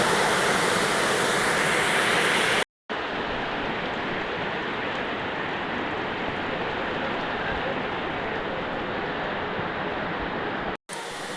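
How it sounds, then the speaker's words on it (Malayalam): Heavy rain pours outside an Andaman island home, a dense, loud, continuous broadband roar with no voices, cut by two brief gaps of silence. "വെളിയിൽ നല്ല മഴ നടക്കുകയാണ് കേട്ടോ."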